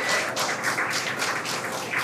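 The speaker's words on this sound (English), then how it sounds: "The crowd here at Mission Control in Hawthorne cheering." Crowd at SpaceX Mission Control in Hawthorne cheering and clapping as the Polaris Dawn crew returns to Earth, a bright continuous patter of hands with rising and falling swells, close and fairly loud.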